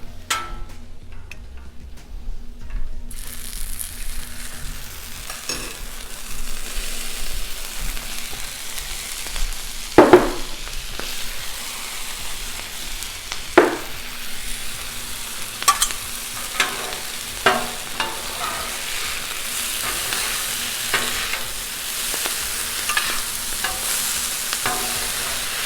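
Vegetables stir-fry on a hot Blackstone flat-top griddle, a steady soft sizzle punctuated by sporadic sharp scrapes and taps of a spatula over about twenty-five seconds, close by, with no talking.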